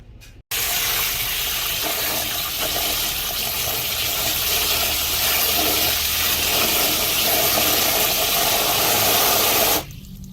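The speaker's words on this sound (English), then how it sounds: "I'm going to rinse them one more time to make sure I get everything off of them." Strawberries rinsed under a running kitchen tap, a steady loud gush of water for about nine seconds that starts and stops abruptly, with no talking.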